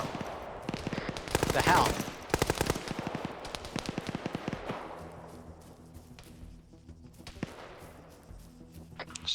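Gunfire in a military shooter game: rapid bursts of sharp, crackling shots hit hard early, then thin to scattered far-off reports, with a brief exclamation from a voice among them.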